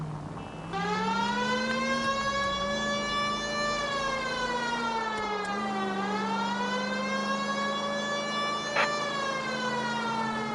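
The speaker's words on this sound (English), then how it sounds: "We've got a siren for a reason, you know." A police car siren in the video game L.A. Noire wails steadily and loudly, a continuous rising and falling tone that dominates throughout with no talk over it.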